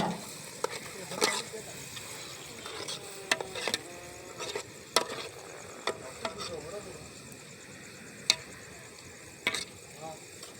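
Onions sizzle and fry in a pan at a friends' party cookout, with repeated sharp scraping clicks of a utensil stirring them over a steady low frying hiss.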